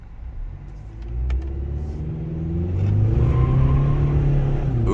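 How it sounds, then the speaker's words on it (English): A four-cylinder truck towing a boat trailer pulls away, its engine droning low and rising steadily in pitch and loudness as the tires briefly spin, a continuous rumbling build with no talking. "just spun tires on accident"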